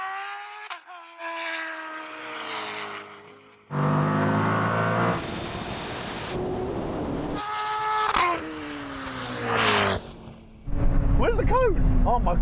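Drag race between a Koenigsegg, a Tesla Plaid and a turbocharged Hayabusa motorcycle, with bursts of engine roar and whooshing passes, loud and intermittent, amid excited voices.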